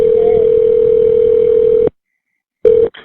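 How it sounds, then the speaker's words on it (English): A phone's emergency panic button dialing 911 produces a loud, steady single tone that holds for about two seconds, cuts to silence, then briefly returns before stopping. "She picked up Cimarron's phone and hit the panic button, which dials 911,"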